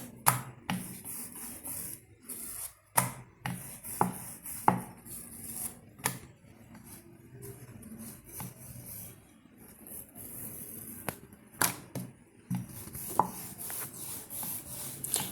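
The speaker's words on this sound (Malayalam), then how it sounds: "നമ്മൾ ഒരു അതിൽ നിന്നൊരു ഉരുള എടുത്തു നമ്മൾ പരത്താൻ പോവാണ് പതുക്കെ പരത്തി കൊടുക്കാം" Rice flour dough balls for hot rice chips being rolled out flat, giving soft scraping and rubbing strokes with intermittent light taps and knocks of the rolling pin, fairly close and moderate in level, with no talk.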